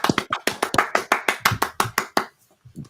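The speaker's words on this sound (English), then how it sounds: "I'll give him the manual claps." A single person giving manual hand claps in place of a sound effect, about a dozen close, sharp claps in a quick steady rhythm, then stopping into near silence.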